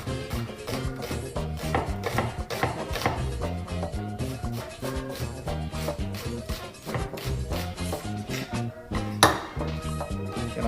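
Onions sliced with a knife on a board while making Haitian pikliz pickled cabbage, a quick, steady run of close cutting taps over background music.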